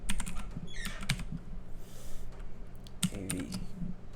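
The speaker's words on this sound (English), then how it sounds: "let's type in the name." A name is typed on a computer keyboard in quick, soft clicking runs, with a short pause before another flurry of keystrokes, heard close and fairly quiet.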